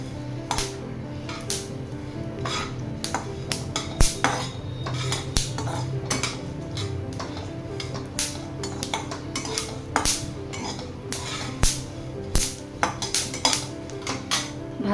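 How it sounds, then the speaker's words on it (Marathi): Pumpkin and watermelon seeds roasting together in a pan for dry fruit laddoos, with a steady low sizzle and frequent sharp scraping clicks of a spoon stirring against the metal throughout. "इथे आपण पंपकिन सीड आणि वॉटरमेलन सीड एकत्र भाजून घेऊया।"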